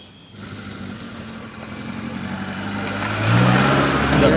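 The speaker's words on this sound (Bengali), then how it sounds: "এটা হচ্ছে ইঞ্জিন স্টার্ট হলো।" A car engine idles steadily after starting and rises slightly in pitch and loudness toward the end, suggesting gentle revving. It is close and continuous, with no speech.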